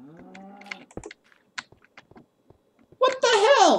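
A pig in the Ponyville Solar video game modpack gives a short, loud, harmonic squealing grunt near the end, after quiet stretches of soft voice and scattered clicks.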